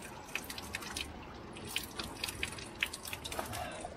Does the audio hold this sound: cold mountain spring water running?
yes